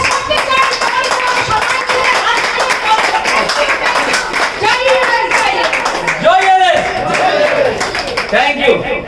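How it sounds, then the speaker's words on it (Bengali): An audience at a marketing training event claps loudly and steadily throughout, while a voice talks over the applause. "প্রত্যেকের জন্য একটা জোরে হাততালি দেওয়া"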